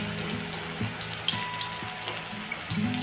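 Karli fish fry in hot oil over medium heat, giving a steady, close sizzle with bubbling crackles and small pops throughout, and no speech.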